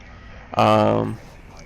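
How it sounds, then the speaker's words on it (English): A phone sounds a roar alert: a single loud, tonal, roar-like burst lasting about half a second, alone against a quiet room. "Sorry if you just heard a roar, that was my phone."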